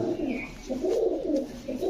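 Pigeons from a flock of high-flying breeds such as Pakistani, Giribaz and Chila coo in low, rolling phrases, close and fairly loud, with no talking over them.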